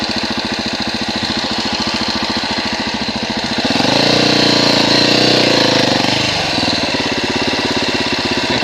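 A 2017 Husqvarna 701 Enduro single-cylinder engine thumping off-road on soft forest loam, a close steady rhythmic chug that swells into a louder revving burst midway before settling back.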